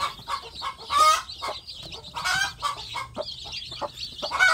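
Free-range village chickens and their chicks cluck and chirp in a steady, busy stream from close by, with irregular bursts and no talk over them.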